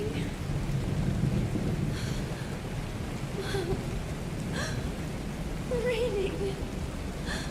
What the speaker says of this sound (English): It's raining! It's true!